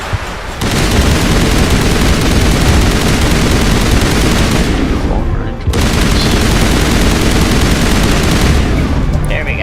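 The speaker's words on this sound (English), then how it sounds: "Looks like I can shoot them before they can even start shooting at me" Sustained, dense gunfire from a firefight in Mass Effect 1, rapid overlapping shots and bursts loud throughout, with a brief lull just before the middle before the shooting resumes.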